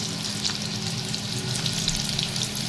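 Garlic and ginger frying in a pan as noodles are prepared, a steady close sizzle with fine crackle running throughout, no voices.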